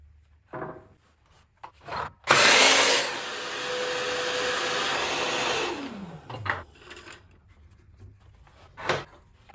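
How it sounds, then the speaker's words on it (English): A power saw slices cleanly through the end of a wooden board: a few clicks and knocks, then a loud, sustained roaring cut of about four seconds that winds down as the blade spins to a stop, followed by quieter handling bumps. "we're going to be making a nice clean cut at the end of the board"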